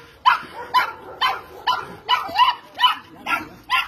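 A small female dog barks repeatedly and steadily, about eight sharp barks in a regular rhythm, close and loud, with faint background noise.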